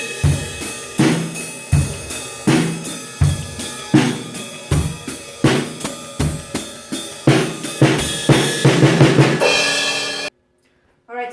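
A drum kit plays a steady beginner beat by a 13-year-old drummer, with hi-hat opening and closing over kick and snare, loud and close, in even repeating strokes for about ten seconds before stopping abruptly.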